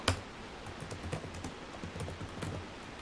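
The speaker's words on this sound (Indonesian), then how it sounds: "ngetik di sini apa yang kamu rasain dari keyboardnya ya" Fingers type on the keyboard of an HP 14-inch laptop in pale gold, giving a quiet, close run of soft, irregular key clicks that stays even throughout.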